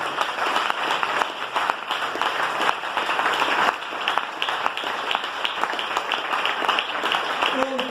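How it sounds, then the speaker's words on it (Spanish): A church congregation breaks into sustained applause, many hands clapping in a dense, continuous roar with crowd noise and voices mixed in. "Denle ese aplauso al Señor"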